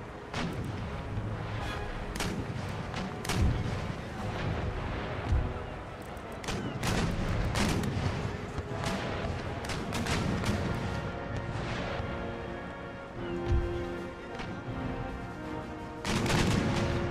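Ship cannon fire in an Empire: Total War naval battle, with a long, continuous barrage of booming broadside shots and crashing impacts, loud and relentless, while a voice speaks in places.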